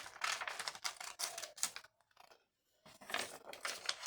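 Scissors snipping through paper and transparent vellum in crisp, rapid bursts of close cuts, pausing briefly before another run of snips.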